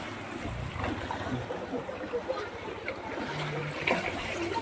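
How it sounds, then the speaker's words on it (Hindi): Fast-flowing water rushes at the Shivalika dam as a continuous, moderately quiet churning wash, with people talking over it throughout. "और पानी का फ्लो इतना तेज है"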